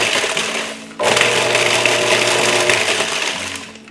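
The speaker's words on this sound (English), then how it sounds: "just give it a quick head start in the food processor" A food processor whirs through bacon, a loud close motor hum with rattling, chopping clatter that starts abruptly, runs steadily for a few seconds, then winds down.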